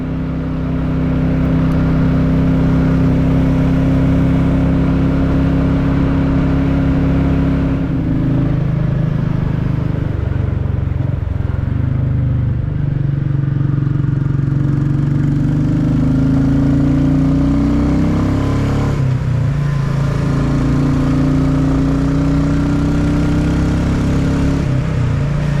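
A Royal Enfield Classic 350 motorcycle engine on a riding commute, a loud continuous thrum with pitch rising and falling as it revs through gears, wind noise over it throughout.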